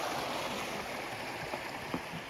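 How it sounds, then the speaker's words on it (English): A flowing brook on a drizzly March hike, a steady broad rushing of water, close and even throughout with faint small knocks. "A beautiful brook."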